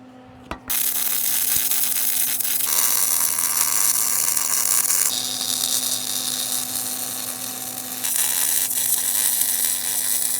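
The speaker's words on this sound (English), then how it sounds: "All right, let me weld all this up real quick." Welding gussets onto a steel crossmember produces a steady, loud, dense crackling hiss broken into several long beads, with brief pauses between them and a low hum underneath.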